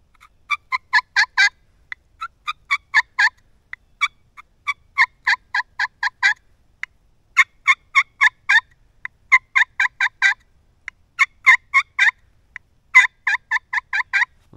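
A friction turkey call with a metallic plastic surface and a small wooden handle makes turkey yelps in repeated quick bursts of raspy, high yelping notes, clear and close with no other sound.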